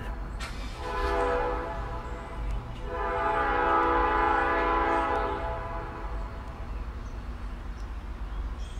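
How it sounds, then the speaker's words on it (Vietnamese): A train horn sounds in two long, loud blasts with rich harmonic tones, the first briefly from about one second and the second held longer from three to five seconds, over a steady rumble of rolling railcars. "chỉ cái tiếng kèn như vậy là tiếng xe lửa đó các vị"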